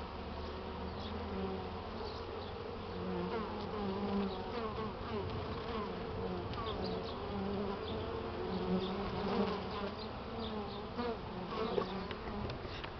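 A dense, steady buzz of many honeybees returning with pollen on a warm spring day, a continuous droning hum with individual bees passing near the microphone.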